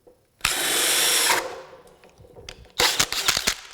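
A cordless drill on a 5 amp hour battery bores a 3 5/8 inch hole: a loud burst of whirring, a pause, then stuttering, jolting bursts as the large bit binds.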